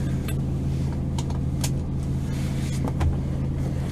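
A 2012 Ram pickup truck idling with the engine running, heard from inside the cab as a steady low rumble with a few faint clicks and rustles over it.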